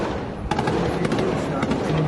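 Gunfire amid fighting near a hospital where injured Palestinians arrive, heard as a string of sharp cracks and thuds over constant street noise and crowd voices.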